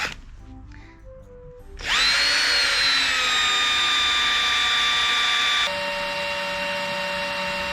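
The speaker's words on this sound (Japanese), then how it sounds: "大変、この穴開けんの。" Power drill boring holes into the body of a MAX IV amphibious vehicle under restoration, a steady loud whine that starts after a quiet moment and holds, its pitch dropping slightly near the end.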